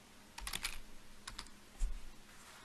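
Keys clatter on a computer keyboard in two quick bursts of typing, followed by a single heavier keystroke, close and fairly quiet with no talking.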